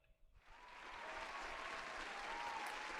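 Audience clapping during a live Twitch and YouTube stream starts suddenly after a brief pause and swells into a steady, dense wash of many hands, sustained and fairly loud to the end.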